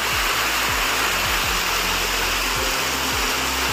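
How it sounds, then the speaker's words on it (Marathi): A mossy waterfall pours down in a steady, loud roar that fills the whole clip without letting up, with faint low thumps underneath and no voices. "हा धबधबा आहे, पाण्याचा धबधबा"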